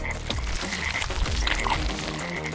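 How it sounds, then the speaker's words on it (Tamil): A frog croaks repeatedly in a layered story sound effect, its clear rhythmic croaks standing out over a busy, damp ambient bed with no talking. "அந்த தவளை அவனுக்கு முன்னால் ஒரு 2 அடி தூரத்தில் நின்றபடி தன் நீண்ட பிசுபிசுப்பான நாக்கை வெளியே"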